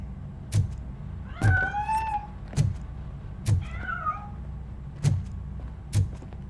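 A cat in the video game Robocop Rogue City gives two drawn-out meows while escaping, set against regular sharp clicks or knocks and a low steady hum.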